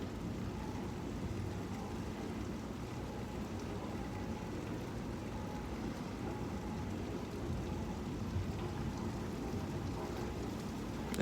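Steady, dense rain falls continuously at a moderate, even level, a constant wash of drops with no pauses and no voices.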